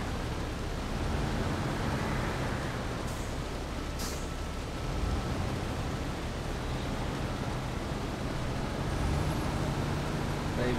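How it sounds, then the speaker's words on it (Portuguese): Truck maneuvering in the video game SnowRunner, a continuous low engine drone with noisy rumble and a couple of short clicks and hisses. "Vou manobrar esse caminhão aqui."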